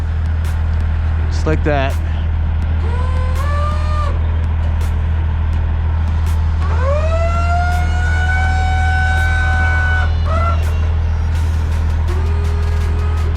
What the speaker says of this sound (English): now we're just gonna lower our decks all the way down